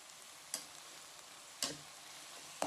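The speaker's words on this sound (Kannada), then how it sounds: "ನಾನಿಲ್ಲಿ ಫ್ರೈ ಮಾಡ್ತಾ ಇದ್ದೀನಿ" Chicken fries in a pan in a family kitchen, a low steady sizzle carrying on throughout, broken by a few sharp clinks from stirring.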